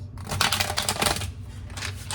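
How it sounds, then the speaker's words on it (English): Tarot cards shuffled by hand, a quick run of soft papery riffles and flutters close up, with no talking. "I'm just going to shuffle a few more times."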